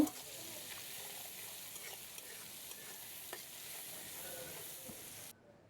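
Onions fry in oil in a pan as they are stirred, giving a soft, steady sizzle with faint scraping of the spoon, quiet and constant throughout, with no talking.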